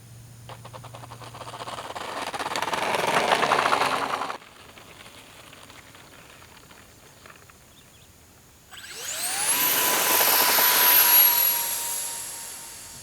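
XFly Twinliner model airliner with twin 40mm electric ducted fan jets spools up, quiets briefly, then screams to a loud, rising high-pitched whine at takeoff, close by and unaccompanied by speech.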